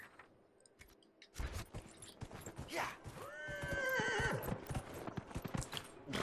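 Horse in the video game Dragon Age Inquisition, with loud whinnying neighs over a steady run of clip-clopping hooves after a quiet opening, the calls rising and falling close by.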